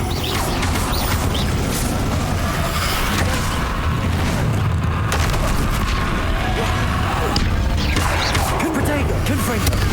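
Confringo and Bombarda spell blasts in Hogwarts Legacy, a dense run of crashes, splintering wood and booms heard up close, with a voice speaking over the chaotic impacts.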